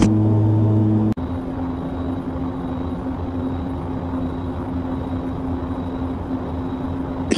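Airplane engine in a flight simulator game during landing, a steady loud drone with a sustained tonal hum that drops in pitch abruptly early on and then settles into a continuous even rumble, with no talk.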